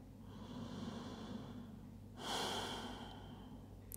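A slow, deep breath during a yoga session, a steady airy inhale rising into a louder, broader exhale near the middle, close and quiet over a low background hum.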